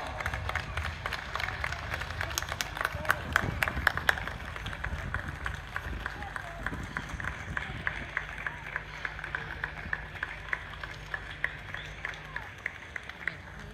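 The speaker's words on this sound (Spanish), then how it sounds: "muy fuerte el aplauso de todo el público" An audience at a Malvinas war 40th anniversary ceremony in a central plaza claps in a faint, distant patter of scattered claps, with some louder isolated claps early on, thinning toward the end.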